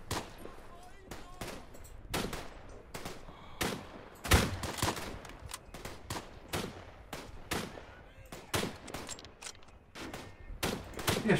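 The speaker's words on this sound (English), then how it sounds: "It's like they're going to actually waste bullets shooting at me now." Scattered gunshots from a World War I shooter set on the Eastern Front, Tannenberg, crack out in irregular bursts and single reports, some near and loud, others distant, with faint voices in the background.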